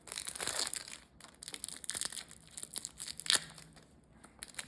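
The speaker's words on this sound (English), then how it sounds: "Let's get all these plastic wraps around there off." Plastic wrap being peeled off a 1/6 scale Demogorgon collectible figure, close crinkling and crackling in irregular bursts, with one sharper crunch near the end.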